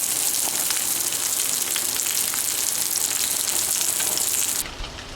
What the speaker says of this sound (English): It's going to give it such a nice sear, a nice crust, and it won't stick to the pan.